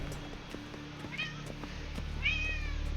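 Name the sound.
cat meowing for food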